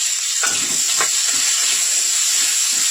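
Onions frying in hot oil with crackling panch phoron whole spices, a steady close hiss and sizzle throughout with a few brief louder bursts of spattering near the start.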